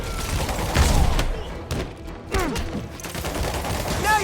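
Bursts of gunfire rattle through a Spider-Man Remastered battle against Shocker, with booming impacts and thuds mixed with shouting voices.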